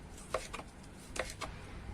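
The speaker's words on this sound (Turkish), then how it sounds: "Şimdi ben doğrama işlemine geçtim arkadaşlar." A knife chops tomatoes on a cutting board for canning, a few quiet, sharp taps spaced unevenly over a faint background.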